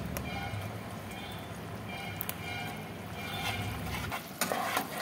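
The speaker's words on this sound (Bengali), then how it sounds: "টমেটো সসটা আমি একটু রান্না করে নিচ্ছি, আর আমি একটু চিলি সস দিচ্ছি।" Tomato, soy and chili sauce cooking in a pan, giving a steady low sizzle and bubbling with faint scraping throughout, a few louder clatters near the end.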